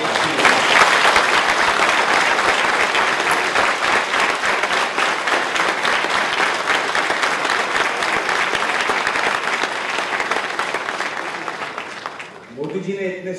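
A large audience at a young entrepreneurs' meet addressed by Modi applauds steadily for about twelve seconds, a dense loud wash of clapping that fades near the end as a voice begins.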